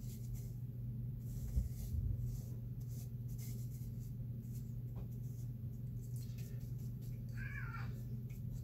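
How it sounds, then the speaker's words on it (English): Cat meowing a single short, fairly faint cry near the end, heard indoors over a steady low hum with soft brush-on-paper scratching. "That was a cat making that noise"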